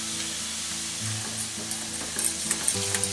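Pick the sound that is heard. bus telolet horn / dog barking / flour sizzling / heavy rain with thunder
flour sizzling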